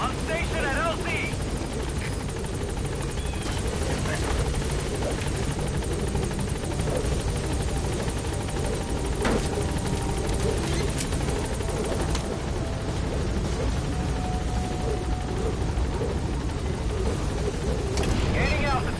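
In the Metal Gear Solid 5 video game, the helicopter Pequot hovers at a landing zone, its rotor a continuous loud, steady chop and drone that carries throughout, with brief metallic clanks layered in.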